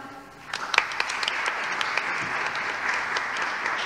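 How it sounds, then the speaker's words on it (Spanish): Audience applause breaks out at an international conference session, a dense crackle of many hands clapping that swells quickly and then holds steady at a moderate level to the end. "Le damos un fuerte aplauso a Julieta."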